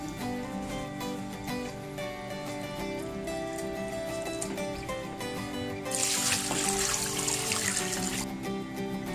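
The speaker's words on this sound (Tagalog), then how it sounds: "Dapat hinuhugasan nyo maigi to." Running tap water splashes and trickles over a steady hum while meat and pork hock are washed, growing louder and brighter near the end as the flow hits something in the sink.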